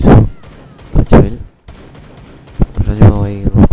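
Rapid bursts of gunfire ring out in a Rainbow Six Siege match, loud and punchy, with a quieter lull in the middle before another volley and a spoken voice over the shooting.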